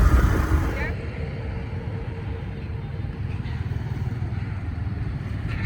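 Motorcycle engine held at raised revs during a riding lesson, a steady close rumble with mechanical clatter that starts loud and settles into a constant drone.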